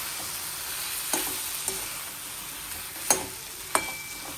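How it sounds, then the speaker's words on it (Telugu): A tomato, onion and cashew mixture fries in a pan for a mushroom gravy, giving a steady close sizzle broken by a few sharp clicks and scrapes of a stirring spoon. "మన టొమాటో, ఉల్లిపాయ, జీడిపప్పుల మిశ్రమం బాగా వేగుతూ ఉంటుంది"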